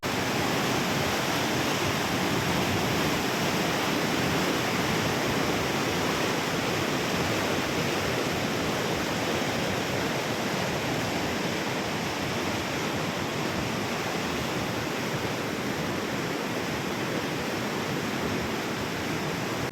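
Water rushes through twenty-one open gates of the Seena Kolegaon dam in a loud, unbroken roar, constant throughout with no voices.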